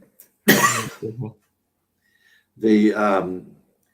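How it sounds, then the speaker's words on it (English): Two harsh coughs, close and loud, separated by a short silence, the first followed by a couple of smaller hacks. "I'm sorry, got a little cough here."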